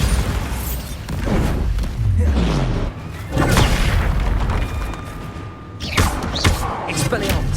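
Bombarda spell blasts in the video game Hogwarts Legacy, a loud sequence of booming thuds and crashing impacts amid continuous combat effects, with a voice calling out spells over it.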